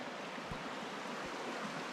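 A creek flows steadily nearby, a broad even rush of water with no pauses, heard on its own without voices.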